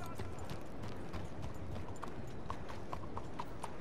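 Horse hooves clip-clopping at a steady walking pace in Red Dead Redemption 2, close and fairly quiet, over a soft continuous ambient background with no talk.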